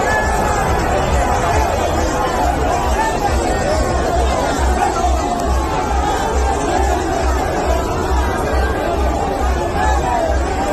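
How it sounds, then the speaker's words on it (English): Dense crowd chatter fills a stadium at a Kano campaign rally: a loud, unbroken babble of many voices, close and constant throughout. "this is the crowd"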